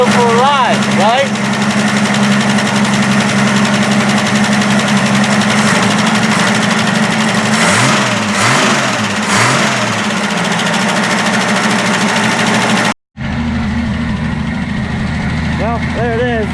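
A 1965 Ford Falcon Futura engine idles steadily after a cold start following years of sitting, with a possible stuck lifter or valves needing adjustment. The running is continuous and loud, with a brief dropout near the end, and voices talk over part of it.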